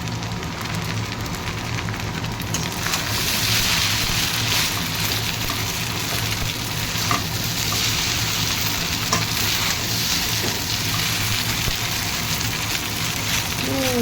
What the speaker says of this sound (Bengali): চাউমিন আমার মোটামুটি ভাজা হয়ে গেছে, সমস্ত ডিমগুলোকে ছড়িয়ে দেবো